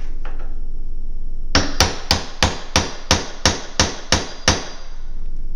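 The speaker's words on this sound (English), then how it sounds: "So you're using the big hammer again." Ten loud, evenly spaced hammer blows from a big hammer drive a nail into a pony wall frame, ringing sharply one after another after a brief quiet start.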